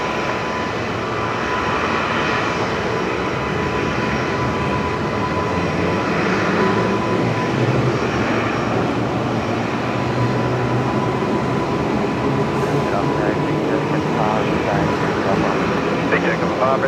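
Aircraft engines at Brisbane Airport at night make a continuous loud, broad roar that holds steady for the whole stretch, with a voice faintly audible underneath.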